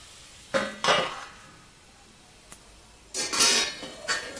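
Radish leaves and radish stir-fried in a pan for a bhaji, giving two short bursts of scraping and sizzling, a faint tap, then a longer clattering stir near the end, close and moderately loud with no talk.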